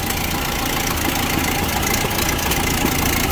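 The engine of a 1930 Ford Model AA truck idles steadily up close, a loud, even mechanical rumble with a dense clattering texture and no talk over it.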